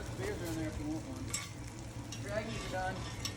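Roux and mirepoix sizzle steadily in a pan for crawfish, a low, continuous frying hiss with occasional stirring scrapes, faint and close.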